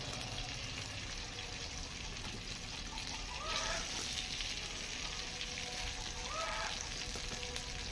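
Chicken kofta meatballs made from minced meat fry lightly in a pan with a steady, soft sizzle throughout, and a couple of brief clinks or stirs come through near the middle and end.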